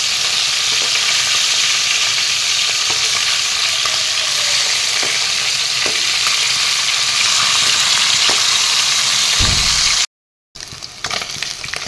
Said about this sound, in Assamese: বেছি ফ্ৰাই কৰিব নালাগে, অলপ অলপ ফ্ৰাই কৰি লৈ আহিম।